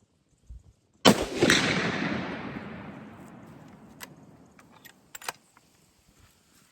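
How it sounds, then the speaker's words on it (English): A single unsuppressed .300 Win Mag rifle shot, a sharp loud crack followed by a long rolling echo that fades over several seconds, with a few faint clicks and handling noises afterward. ".300 Win Mag unsuppressed."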